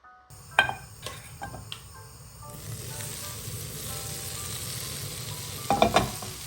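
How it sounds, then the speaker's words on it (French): Thick brioche slices, soaked in milk and egg, frying in butter in a pan: a steady close sizzle that swells after a few seconds, with occasional utensil clinks and scrapes. "Pour cette cuisson, on vient venir les dorer dans du beurre."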